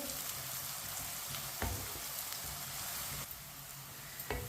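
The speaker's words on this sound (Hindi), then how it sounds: "अदरक और लहसुन डाल के 2 मिनट के लिए हम पका लेंगे, इसी तरह चम्मच लाते हुए भून लेंगे।" Ginger and garlic fry in a pan for an aloo matar curry while a spoon stirs them, giving a steady, close sizzle with a few soft scraping taps from the spoon.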